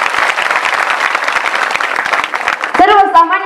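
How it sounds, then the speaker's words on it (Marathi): An audience at a Shiva Purana religious discourse with a live tableau applauds in a sustained burst of clapping, which thins out as a voice begins speaking near the end. "विष्णू भगवानजी एकदा सुंदर जोरदार टाळ्या झाल्या पाहिजे"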